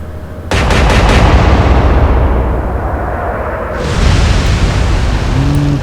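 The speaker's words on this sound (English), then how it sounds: "I reckon one more good salvo from the Resolution will send the Lutzow under the surface." Naval gun salvo from the battleship Resolution in the Atlantic Fleet game, a sudden loud burst of several rapid booms followed by a long rumbling roar that fades and swells again, with no voices.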